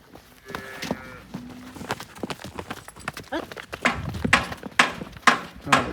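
Cattle at a dairy farm, including a recently calved cow with its calf, give a few low moos and shuffling hoof steps nearby, with scattered knocks and rustling building toward the end.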